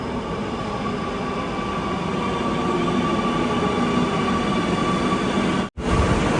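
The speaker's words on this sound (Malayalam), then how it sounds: "നമുക്ക് പോകാനുള്ള മെട്രോ ഇതാ വരികയാണ്" A Kochi metro train arriving at the station rumbles steadily and loudly nearby, its heavy drone and rail noise continuous, cutting out for a split second near the end.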